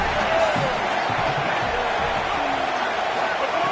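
Stadium crowd noise fills a college football game, NC State versus BYU in the quarterfinals, as a dense, steady roar with rising cheers and whoops during a final possession, continuous and loud throughout.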